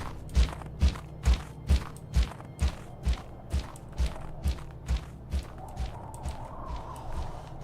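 Character footsteps in the Roblox game Loomian Legacy, a steady run of about fifteen heavy thudding steps, close and evenly paced, fading slightly toward the end.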